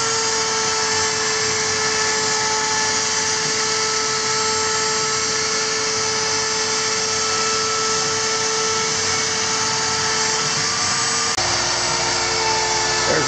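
A CNC machine cuts out a wooden stop block in a home shop, giving a loud, steady high-pitched whine over a constant motor hum that shifts tone briefly near the end.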